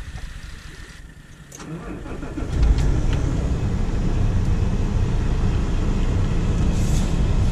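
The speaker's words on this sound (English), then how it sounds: "We'll start the vehicle." Truck engine cranking and catching during a pre-trip inspection, a short starter whir followed by the engine firing up and settling into a loud, steady idle rumble.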